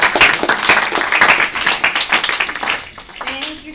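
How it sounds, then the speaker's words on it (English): Audience applause at a health career speaker series, dense clapping from many hands filling the room at close range, with voices mixed in, easing off toward the end. "So if you please give a round of applause for Christina."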